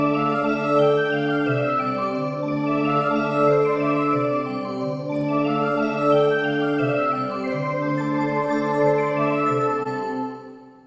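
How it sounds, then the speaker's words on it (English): A dungeon synth melody on a synthesizer plays steady, sustained tones with a slow, atmospheric phrasing, loud and alone throughout before fading at the very end. "in the next track, we have the same melody, but with the synth"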